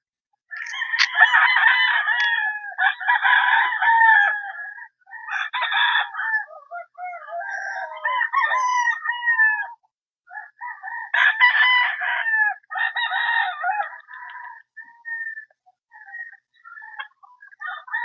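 Gamefowl roosters and bull stags crow loudly and repeatedly at close range, overlapping calls with clucking between, continuing in waves with brief pauses.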